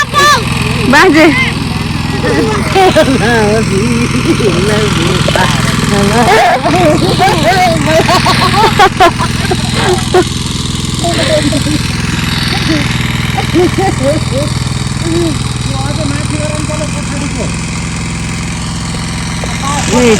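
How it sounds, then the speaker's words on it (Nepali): A tractor engine runs in a village field, a rough, steady drone heard under close conversation and scattered voices throughout. "ट्र्याक्टर चाहिँ लिएर जान थाल्नु चाहिँ यहाँदेखि उता"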